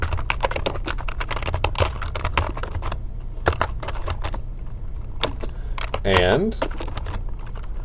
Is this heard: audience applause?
no